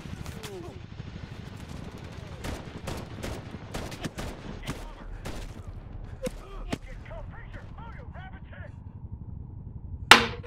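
Gunfire in the Medal of Honor video game: a rapid string of sharp, loud shots in uneven bursts over a low rumble, easing into quieter scattered sounds before one final loud crack at the end.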